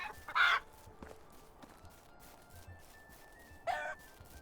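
Roosters in an upgraded chicken coop in the game Medieval Dynasty crow twice, a loud call near the start and another near the end, with quiet ambient farm sound between.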